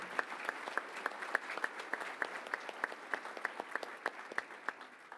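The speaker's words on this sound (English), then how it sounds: "let's give all of our award recipients another round of applause" An audience applauds award recipients at a lunch session, a sustained even patter of many hands clapping at moderate distance, fairly soft and steady throughout.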